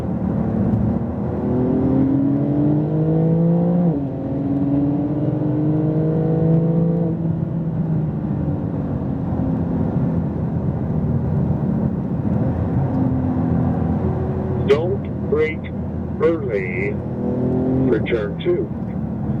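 Porsche 911 Turbo S on a racetrack, engine climbing and shifting through repeated rising pitches from inside the car, steady and loud, with someone talking over it.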